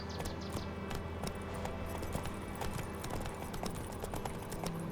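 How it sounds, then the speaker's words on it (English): Hooves of Roach, Geralt's horse in the video game The Witcher 3, clip-clopping in a steady, continuous rhythm, close and clear over a soft background of game sound. "Geralt can always count on his horse, Roach, to help him on his travels"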